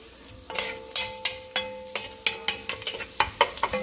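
Butter melting and sizzling with garlic in a pan gives a steady close fry, broken by regular sharp scrapes and taps as the pan is stirred.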